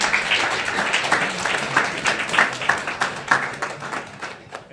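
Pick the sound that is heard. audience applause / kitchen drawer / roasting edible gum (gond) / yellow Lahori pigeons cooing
audience applause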